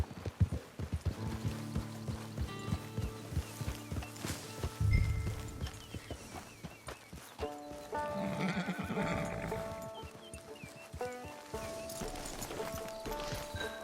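Horse hooves clip-clop in Red Dead Redemption 2 at a steady walking rhythm, close by, with whinnies and neighs breaking through, game music running underneath and brief talk in places.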